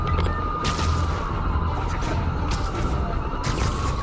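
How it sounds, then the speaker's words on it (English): An explosion's aftermath in the PS5 game Spider-Man: Miles Morales, a dense, loud, continuous rumbling roar with a steady tonal whine running through it and no speech. "That explosion was bad."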